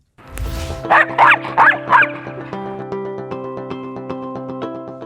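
A dog barks four times in quick succession, close and loud, followed by a lingering ringing tone that fades with faint ticking.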